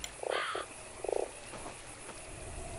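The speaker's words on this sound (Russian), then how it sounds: "Так, лягушка." A cartoonish frog croaks in the video game Fran Bow, two short bursts followed by a quick rapid series of croaks, clear and close over a quiet game background.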